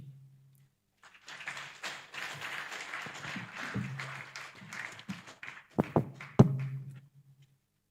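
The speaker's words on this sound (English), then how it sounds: "let's give a round of applause to Professor Oginga." An audience applauds a keynote speaker being welcomed at a conference: steady clapping fills about five seconds, ends with a few louder separate claps, and fades out with a hum underneath.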